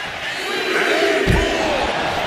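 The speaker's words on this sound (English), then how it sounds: "What a crushing impact on the outside." A wrestler crashes into the barricade outside the ring in WWE 2K26, a single heavy thud landing over continuous crowd noise and commentary.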